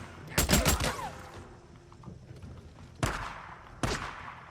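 M50 Reising submachine gun fired in the video game Days Gone: a tight cluster of loud, close shots opens, followed after a pause by two separate single sharp reports, each with a short echoing decay over faint ambient noise.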